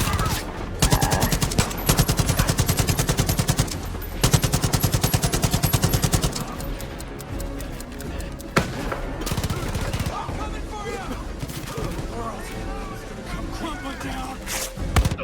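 Far Cry 5 gunfire crackles in long rapid automatic bursts, loud and close, broken by pauses and scattered single shots and thuds, with a voice talking during the quieter stretches.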